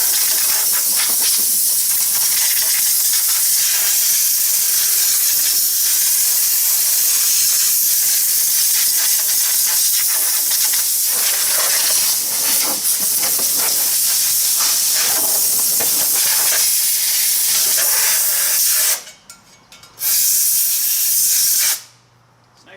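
Compressed air blasts through an extra-long nozzle to clean out a lawn mower radiator, a loud continuous hiss that cuts out briefly twice near the end before resuming.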